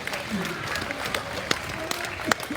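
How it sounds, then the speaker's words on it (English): A crowd at a swine showmanship event at the Arizona National livestock show claps for the kids, producing a steady wash of mixed applause with a few sharper claps and crowd noise underneath. "Let's give them a round of applause"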